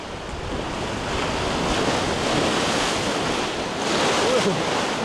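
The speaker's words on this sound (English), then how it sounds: "Quite a big swell today, and there's no wind, so it must be coming from outside." A big swell breaks along the rocky Maltese coast with continuous loud surf, a broad rushing wash of water that swells and eases, with some wind buffeting on the microphone.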